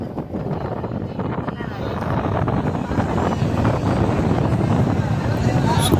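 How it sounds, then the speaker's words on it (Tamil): A ferry boat nears Vivekananda Rock at Kanyakumari, its low engine rumble and the sea blending with heavy wind buffeting, steady and close, while people talk over it. "ரீச் பண்ணிடுச்சு நம்ம போட்."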